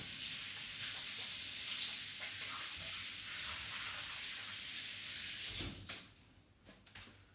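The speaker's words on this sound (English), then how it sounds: "wash my hand." Tap water runs steadily into a sink as hands are washed in a home kitchen, a continuous close hiss that cuts off near the end, followed by a few faint knocks.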